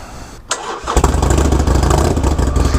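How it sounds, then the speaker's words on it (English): A Harley-Davidson motorcycle engine cranks briefly, then fires up and settles into a loud, steady rumbling idle. "It's always good to have a bike that starts."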